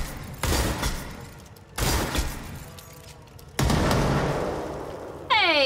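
Three heavy, booming blasts sound from a grenade launcher in the video game Control, evenly spaced and loud, each with a rumbling tail, and a short whirring effect closes the sequence.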